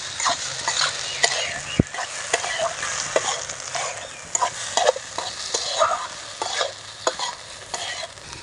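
Fish head pieces, potatoes and spice masala stirred together in a hot pan for a cabbage and fish head curry, with a continuous sizzle broken by frequent scraping strokes and knocks of the ladle.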